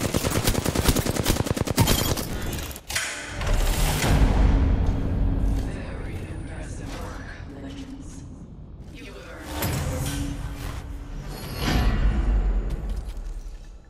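Rapid automatic gunfire crackles through a battle royale game match, loud bursts of shooting with echoing booms and gaps between volleys, with game sounds and a voice running underneath.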